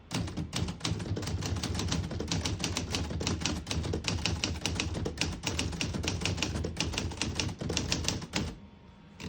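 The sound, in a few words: typing on a 1957 Remington Quiet-Riter portable typewriter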